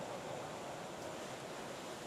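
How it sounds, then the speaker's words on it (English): Ocean surf in the Philippines after a typhoon roars as a steady wash of broadband noise, with gusting wind blowing across it and no break in the sound. "We got lots of wind and we got all those waves."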